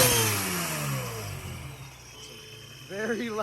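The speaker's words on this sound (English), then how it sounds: "Very loud blow-off valve, as you can tell." A loud whoosh and descending whistle as a custom VF supercharged car with a front-mounted intercooler lets off the throttle, followed by short engine blips and a brief voice near the end.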